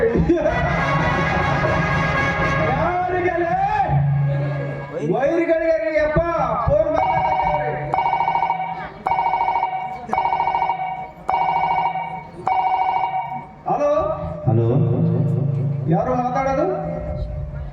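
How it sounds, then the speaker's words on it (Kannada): A telephone rings on stage during a live social drama, its repeated pulsing rings cutting through loud actor dialogue and crowd noise in a reverberant hall. "ಗಣ್ಯರೇ ನಿಮ್ ಫೋನ್ ಬಂದ ನೋಡ್ರಿಯಪ್ಪ"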